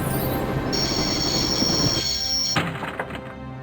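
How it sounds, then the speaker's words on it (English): Train running on rails in the Broken Sword: Shadow of the Templar Director's Cut game, a steady close rumble with a high wheel squeal, then heavy thunks as the sound cuts off. "Wanted to stop the train, and now was my chance."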